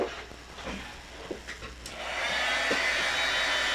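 A heat tool blows steadily over stamped ink on metallic paper, a continuous airy whir that starts softer with faint handling knocks and then holds loud and even for the remaining seconds.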